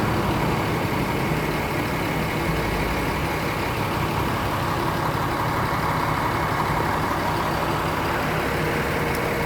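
A Rosalia Indah bus engine idles in a steady, dense low rumble that continues unbroken from start to finish, loud and close with no voices.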